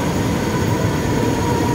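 MRT metro train running along EDSA near Shaw Boulevard in Manila, a steady loud rumble of rail traffic with a constant hum, filling the whole short stretch with no voices.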